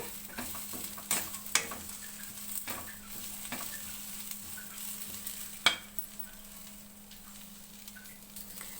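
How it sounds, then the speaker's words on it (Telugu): Pudina (mint) rice ingredients fry lightly in a little oil in a pan, a faint steady sizzle with intermittent soft scrapes and clicks of a stirring spoon, close and quiet. "కొంచెంగా ఫ్రై చేసుకుంటాను. దీన్ని కొద్దిగా మగ్గితే సరిపోతుంది."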